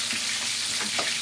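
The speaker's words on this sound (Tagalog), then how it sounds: "Deep fry." Chicken drumsticks deep frying in hot oil make a dense, steady, close sizzle that holds at an even level throughout the short stretch.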